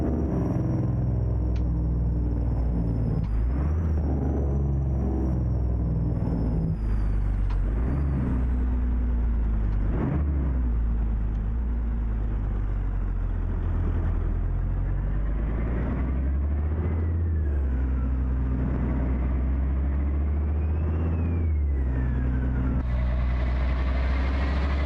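An old-school Mack B61 truck's diesel engine, hauling a Fruehauf tanker in a driving game, runs steadily with a deep, continuous low rumble and a faint rising and falling whine as it pulls along, with no talking.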